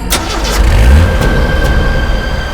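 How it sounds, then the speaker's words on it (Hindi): A car engine starts up close by and revs as the vehicle pulls away in a crime-drama scene, with a steady mid-pitched engine drone. "गाड़ी चला, निकल यहां से।"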